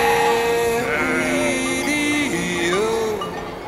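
Sheep bleat during an alpine transhumance drive: a few long, wavering calls that rise and fall in pitch, fairly close and carrying clearly over steady background noise.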